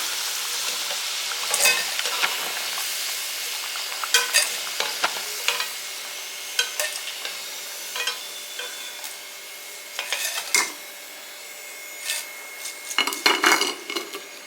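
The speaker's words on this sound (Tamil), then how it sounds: "கிழங்கு வந்து நல்லா பொரிஞ்சிருச்சு இதை எடுத்துக்கலாம்" Potatoes fry in a pan, a soft sizzle beneath repeated sharp scrapes and clinks of a metal utensil stirring against the pan, coming in irregular bursts up close.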